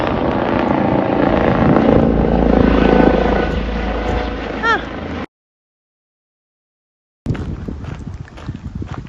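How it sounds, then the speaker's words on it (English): A helicopter's rotor thrum rises to a loud, close pass overhead on a rural walking trail, then cuts out to silence before a fainter outdoor rumble returns. "And a helicopter."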